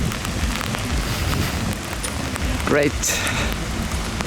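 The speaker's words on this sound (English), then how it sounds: "Wow, this rain is getting ridiculous." Heavy rain pours steadily on an outdoor campsite during a BMW car meet at Mantorp Park in Sweden, a dense close hiss throughout while someone speaks briefly over it.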